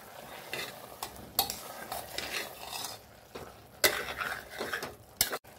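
A spoon stirs chole masala into softened tomatoes in a pan, giving repeated scraping and clinking strokes over a faint sizzle, with a few sharper knocks against the metal.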